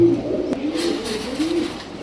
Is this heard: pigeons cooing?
yes